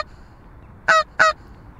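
Geese give two loud, distinct honks in quick succession, standing out clearly against a quiet outdoor background with no talking.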